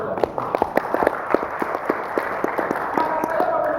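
An audience at a government intellectual property clinic event in Papua claps in quick, uneven applause. The claps are sharp and close, growing into a denser wash toward the end.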